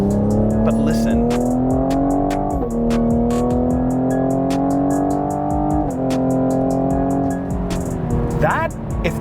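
A 2020 Cadillac CT5-V engine accelerates hard, its loud, close note climbing steadily in pitch, dropping briefly at two gear shifts, then pulling up again.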